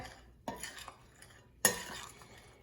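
A little under a tablespoon of salt is stirred into sourdough bread dough with a utensil, giving two distinct scraping, clinking bursts against the bowl over a quiet background, with no talk.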